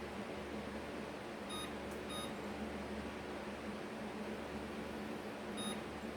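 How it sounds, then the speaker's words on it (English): Kitchen timer being set while homemade ketchup simmers: a few short high electronic beeps in two quick clusters and another near the end, over a steady hum of a fan or ventilation. "Let me set my timer."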